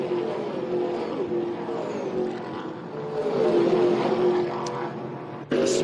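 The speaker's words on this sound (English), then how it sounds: "The sweet sounds of TA2 muscle cars on the Hi-Tec Oils main straight" TA2 muscle cars racing down the Hi-Tec Oils main straight during the Hi-Tec Oils Super Series, a continuous roaring engine drone that swells midway as cars pass, ending in a sharp burst.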